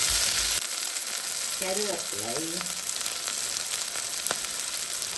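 Fenugreek and fennel seeds fry in oil with a faint, steady sizzling hiss, broken by a couple of quick scraping stirs in the pan.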